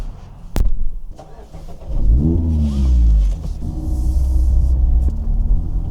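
A sports car engine fires up near a Shell station at the base of Angeles Crest, a sharp start followed by a rising rev and a steady, loud rumble that holds through the rest of the moment.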